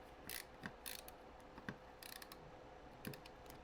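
Small magnetic-tip screwdriver driving tiny M.2 screws while a motherboard is prepared for a PC build, giving faint, sparse clicking ratchet-like ticks spread across a quiet background.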